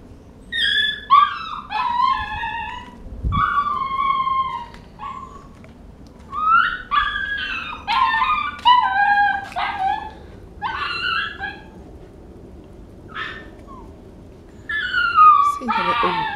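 Puppy shut in a puppy play area at a dog shelter, howling, yipping and whimpering in repeated bursts close by, with short pauses and a faint background hum.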